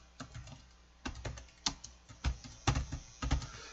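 Keys clatter on a computer keyboard as accounting data is entered, in quiet, soft clusters of quick keystrokes separated by short pauses, close by and faint.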